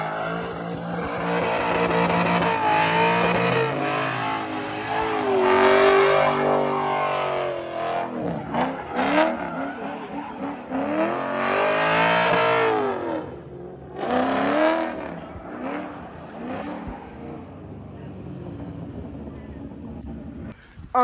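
Cars at a street car meet revving and racing, engines rising and falling in repeated loud accelerating sweeps, some close and some passing, with a brief lull before more revs and a sharp sound at the end.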